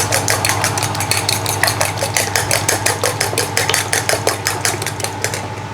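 Eggs beaten briskly in a bowl for a Thai egg dish, a fast, even clatter of utensil against bowl, close and continuous over a low steady hum, with no talk.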